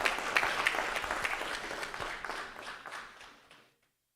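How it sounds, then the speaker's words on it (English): A round of applause fills a room at a bank-hosted business breakfast meeting, steady dense clapping from the audience that tails off and ends after about three and a half seconds. "with a round of applause"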